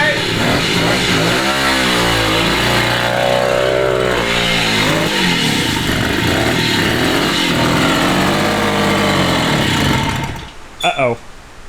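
A 1969 Italian Morini 50cc two-stroke mini bike engine runs close and loud, revving up and down in rising and falling sweeps, then cuts out near the end, leaving a few brief knocks.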